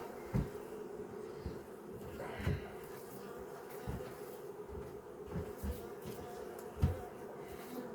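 Honey bees hum in a soft, continuous buzz at a beehive, faint and steady throughout, with a few dull handling bumps scattered among the droning.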